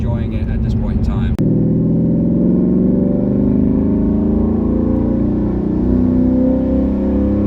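A tuned 2019 Ford Mustang GT with a 93-octane tune pulls steadily while driving, a loud, sustained engine drone heard from inside the car after a brief burst of talk at the start.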